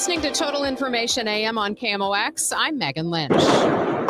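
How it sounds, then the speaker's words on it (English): Fireworks and gunfire in downtown St. Louis erupt as a dense, crackling burst at the very end, right after a radio announcer talks. "sound of the mayhem that was downtown St. Louis a year ago after juveniles began shooting off fireworks and guns"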